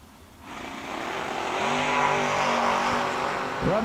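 A Camaro and a Monte Carlo drag race car launch together, their engines rising into a loud, sustained roar with climbing revs over a few seconds.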